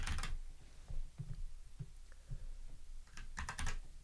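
Keys clack on a computer keyboard as text is typed, a close run of uneven clicks and taps with short pauses and a denser flurry near the end, with no voice.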